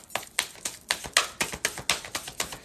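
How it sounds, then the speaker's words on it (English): A deck of tarot cards is shuffled in repeated quick riffling bursts, about a dozen crisp papery slaps in a steady rhythm, close and clear with no talking. "Spirit, last shuffle from this deck."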